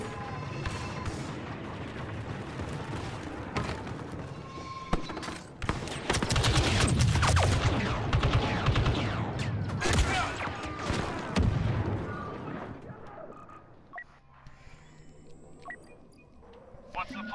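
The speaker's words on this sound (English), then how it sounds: "Shoot three bursts at once." Burst-fire blaster rifle in Star Wars Battlefront 2, rapid shots amid constant battle noise and explosions, under nearly continuous talk from a player.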